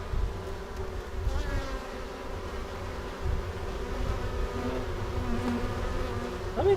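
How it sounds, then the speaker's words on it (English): Honey bees buzz steadily around a hive entrance with guard bees present, a dense low droning hum that stays fairly even and close throughout, with no voices. "it looks like they have a ton of guard bees just looking at all the other bees around"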